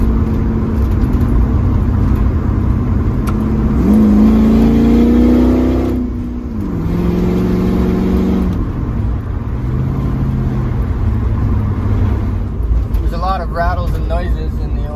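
A Pontiac Firebird with a 5.3 LS V8 swap on a Sunday drive, its engine humming steadily from inside the cabin and rising through gears with revving sweeps, while someone talks over it much of the time.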